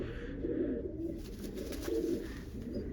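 Pigeons kept by a hobbyist coo in a continuous low throaty murmur, close and fairly soft, with repeated overlapping calls and no speech.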